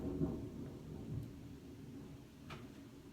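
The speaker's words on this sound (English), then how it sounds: "Girl, this thunder is fooling." Thunder rumbling during a heavy rainstorm, a low rolling boom near the start that fades into a softer background rumble with rain underneath.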